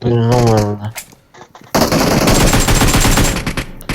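PUBG match in Pochinki. Someone talks loudly, then after a short pause a burst of rapid automatic gunfire rattles close and loud for about two seconds before trailing off.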